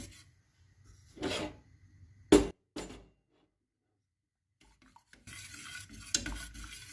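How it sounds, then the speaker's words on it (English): A thick mixture of milk, biscuits, cocoa powder and cornstarch is stirred while cooking in a pan, heard as a few separate close scraping strokes broken by quiet pauses. "So keep on stirring"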